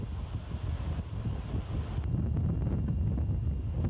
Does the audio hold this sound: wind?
yes